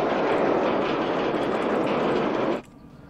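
Roller coaster trains in the OpenRCT2 game rumble past in a loud, steady rolling roar with rapid clacking, cutting off abruptly near the end into quiet.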